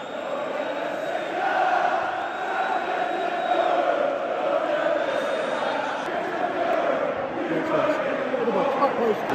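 A football stadium crowd welcomes Morgan Gibbs-White on his home debut at Forest against Spurs, a steady broad roar of many voices with cheering, continuous and fairly loud throughout.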